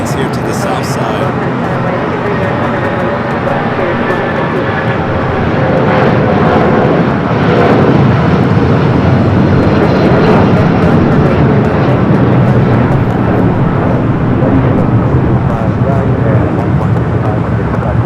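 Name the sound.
airliner with Toy Story 5 special livery at LAX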